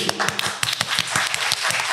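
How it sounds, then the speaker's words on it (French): A small audience claps for a quiz participant, a quick, uneven patter of hands lasting a couple of seconds, with voices mixed in. "On peut l'applaudir."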